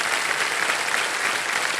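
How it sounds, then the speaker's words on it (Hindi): A studio audience on Kaun Banega Crorepati season 17 gives brisk, dense applause, a steady patter of many hands clapping for the whole short clip. "तालियां बज जाए इनके लिए"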